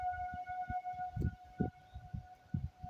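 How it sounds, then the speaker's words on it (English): An outdoor tornado warning siren wails in the distance as a steady sustained tone, with gusty wind buffeting and rumbling in irregular bursts beneath it. "listen to that tornado siren"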